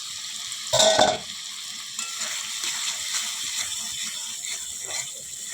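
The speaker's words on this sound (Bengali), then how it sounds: "ভালো করে কষিয়ে নেব।" Spices sautéed in a pan with a little water, a loud brief burst of sizzle and scraping at first, then softer continuous frying and occasional stirring strokes, close up with no voices.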